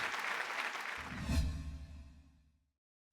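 Studio audience applause and cheering at an Economic Times promising-brands award show, a swelling wash of clapping that peaks early then fades out to silence after about two and a half seconds.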